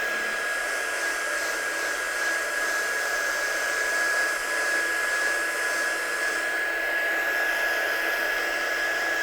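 A heat tool blows steadily to dry ink on cardstock during papercraft, a loud, constant whooshing hum with a faint whine that holds unbroken for about nine seconds, nearby and without speech.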